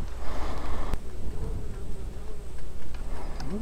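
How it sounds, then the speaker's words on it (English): Bees buzz close by, their droning hum wavering and drifting as they move around in a quiet outdoor spot. "Yeah, there's quite a couple bees."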